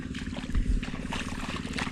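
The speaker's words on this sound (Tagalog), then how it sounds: "Siyempre, umaandar pa rin yung ano natin." A boat's engine keeps running on the water, a steady low droning hum that holds evenly throughout, with faint wind and water noise over it.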